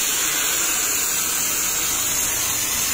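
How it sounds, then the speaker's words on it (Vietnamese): A homemade CNC plasma cutter slices a rocket nose cone, giving a steady, loud, hissing roar that holds unbroken for the whole stretch with no voices. "chúng tôi đang cắt cái sản phẩm có tên là nắp tên lửa Mark 4"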